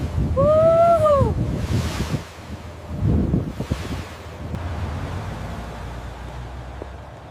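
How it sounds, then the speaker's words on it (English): Strong wind blows in heavy, roaring gusts that swell and ease, opening with a brief voiced exclamation before the rushing settles into a steadier, lower blow. "The wind is so strong."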